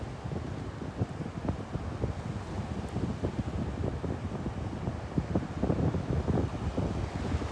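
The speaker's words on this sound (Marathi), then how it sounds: "त्याच्या हाईट एवढ्या लाटा झालेल्या आहेत." Wind and high sea waves roll onto a village shore where fishermen haul in a net, making a steady, loud, broadband roar with gusty wind buffeting the microphone throughout.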